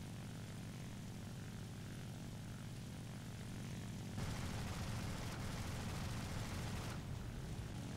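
Il-2 Shturmovik piston engine droning steadily in the War Thunder flight game, a dense, continuous propeller roar that swells slightly louder partway through, with no talk.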